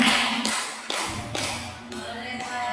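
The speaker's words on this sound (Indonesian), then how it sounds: "Terima kasih, tepuk tangan dulu" An elementary school audience at SDN Rangimulya claps in a fairly steady patter, with a few sharper taps and a voice over the sound.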